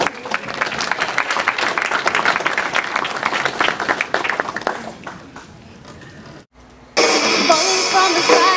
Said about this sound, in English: Let's give Sandra a big round of applause.